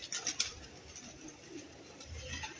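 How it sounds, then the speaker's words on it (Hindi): Soft cooing from female dub pigeons and faint bird calls sound close by, with a few brief higher chirps early on over quiet background rustle. "डब वाले कबूतर हैं माशाल्लाह फीमेल"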